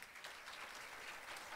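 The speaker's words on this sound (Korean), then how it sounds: "다시 한번 힘찬 박수 부탁드리겠습니다" An audience at a Korean loss adjusters' successful-candidates meeting claps steadily, a dense continuous applause that fills the whole moment at moderate level with no voices over it.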